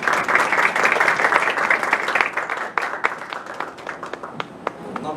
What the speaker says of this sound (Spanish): les pido por favor un fuerte aplauso para Martín Portillo